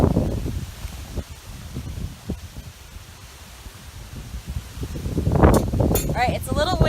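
Wind gusting through a backyard garden with grapevines, producing low rumbling buffeting on the microphone and soft rustling of leaves, rising toward the end with some brief higher-pitched sounds.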